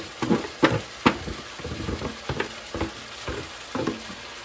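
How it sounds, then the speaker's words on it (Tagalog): Carrots and other vegetables for lumpiang prito sautéing in a pan, with a soft background sizzle and repeated close scraping stirs roughly every half second. "Igigisa na natin sila lahat."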